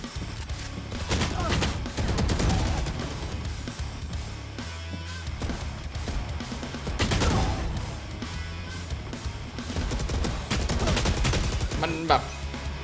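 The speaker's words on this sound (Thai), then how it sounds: "ฟีลลิ่งในการยิงเปลี่ยนเยอะเลยอะ เปลี่ยนเยอะเลย เออความดุดันของแฟนดอหายไปแล้ว เสียงอะ" Phantom rifle fire with the Oni 2.0 skin in Valorant comes in rapid bursts of loud, crisp shots with short pauses between, while someone talks over them throughout.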